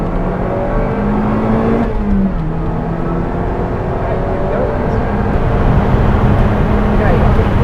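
A Lotus sports car accelerating on a racetrack, its engine note climbing steadily as speed builds out of a corner, heard from inside the car with a continuous loud drone under a driving instructor's talk.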